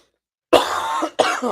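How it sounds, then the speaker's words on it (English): Two close, loud coughs in quick succession after a brief silence. "I'm battling a cough right now."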